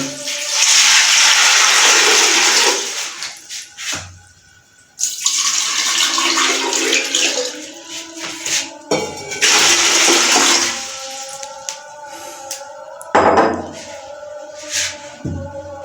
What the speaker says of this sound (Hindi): अभी इसमें हम पानी ऐड करेंगे 2 जग।